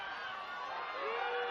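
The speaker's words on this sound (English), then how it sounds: "This has got the border crowd cheering." A rugby crowd at Edinburgh v Leicester Tigers roars and cheers in a broad, continuous wash of voices that swells slightly toward the end, with no single voice standing out.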